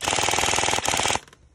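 A Lancer Tactical DSG airsoft gun with an 18K motor fires on semi-auto, a rapid, even stream of loud close mechanical cracks for about a second, one short pause, then a quick burst before it stops abruptly.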